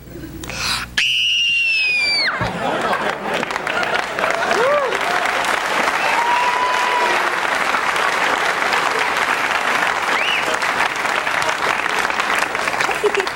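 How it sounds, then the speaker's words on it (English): In a TV studio, a guest lets out a short, high, rising scream on request, immediately swallowed by loud, sustained studio-audience applause and cheering that continues to the end. "That's a good scream."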